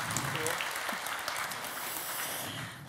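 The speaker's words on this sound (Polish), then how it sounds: "brawa się należą" Audience applause at a diploma award ceremony, a dense steady clapping from a crowd that carries evenly through the short moment without fading.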